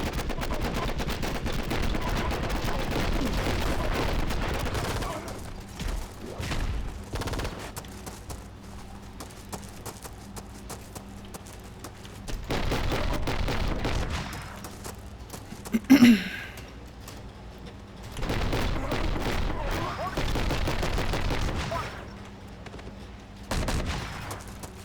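Enemy weapons fire in the PC video game Enter The Matrix, coming in repeated rapid bursts with quiet gaps between them and one sharp, loud spike near the middle.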